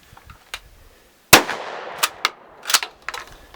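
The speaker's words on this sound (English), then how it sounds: "let's put a couple shots downrange" A Remington Model 29 pump-action shotgun fires several sharp, loud shots at an outdoor range, with a few fainter clicks and clacks of the pump action between the blasts.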